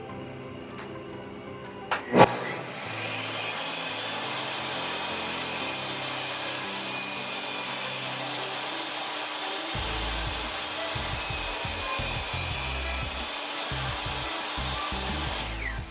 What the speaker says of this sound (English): So we got the you know, first cut on the table saw. Let's try it out.